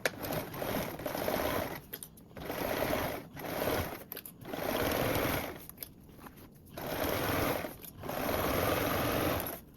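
A sewing machine runs in repeated bursts of a few seconds each, stitching a seam on a tote bag with a 3/8 inch seam allowance. The bursts are close and steady with short pauses between them, and no voices.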